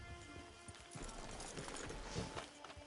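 Horse hooves clip-clopping in Red Dead Redemption, a steady, fairly faint rhythm of hoof beats across the clip under a continuous game background.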